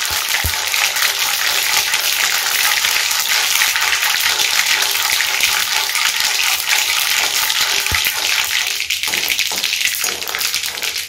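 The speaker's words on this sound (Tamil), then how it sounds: "அதோடைய மிளகாய் காஞ்ச மிளகாய் கடுகு நல்லா பொரியட்டுங்க." Dried red chillies and mustard seeds fry in hot oil for citron pickle, a loud, steady crackling hiss that fills the whole stretch with a few sharp pops.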